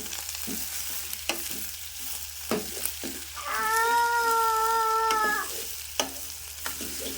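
Onions fry in a pan with a continuous soft sizzle and periodic sharp clicks of stirring, while a cat's meow briefly rises over it in the middle.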